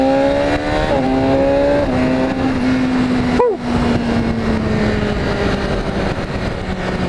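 A BMW S1000RR motorcycle engine roars loud and close, climbing through rising pitches with quick gear-change steps, then holding a steady high drone with wind noise.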